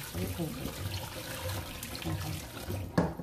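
Tap water runs steadily into a sink as boiled beef is rinsed by hand before marinating for adobo, a constant close wash with faint low murmuring behind it and a brief splash near the end.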